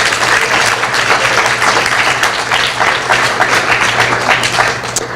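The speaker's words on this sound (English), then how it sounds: "Please give them a round of applause." Audience applause at a community evening event on electric vehicles, ride sharing and community solar, a dense, steady clapping from a full room that runs loud and unbroken throughout, with a low hum underneath.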